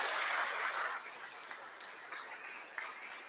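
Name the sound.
audience applause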